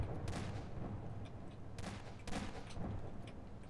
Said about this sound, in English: Stop shooting things in my office.